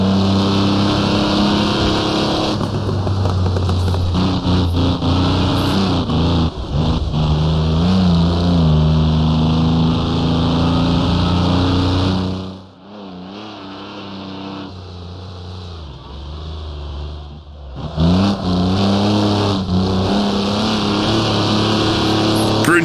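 The virtual Mercedes transporter's engine bogs in third gear in Assetto Corsa on the Nordschleife, a loud, strained, droning hum that dips briefly partway through before climbing back to full volume.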